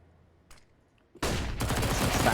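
Dense Counter-Strike gunfire from SMGs and a FAMAS rifle erupts into a loud sustained barrage after a couple of faint taps, rattling continuously to the end in a competitive esports match.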